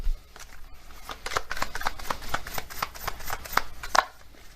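Oracle cards being shuffled by hand, a steady run of soft riffling slaps and flicks, close and fairly loud with a sharper snap near the end and no talk over it.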